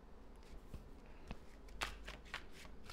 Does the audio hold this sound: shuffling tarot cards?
yes